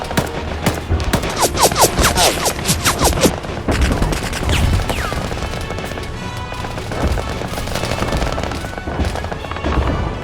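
Rapid bursts of gunfire crackle in a staged war scene, dense volleys in the first few seconds thinning to scattered shots, with a whistle-like sweep and background rumble underneath.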